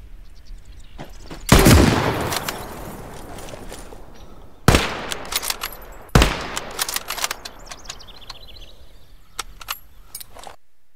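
Gunfire in the Call to Arms: Gates of Hell video game, loud sharp shots in a few separate bursts with scattered single cracks and distant pops between them.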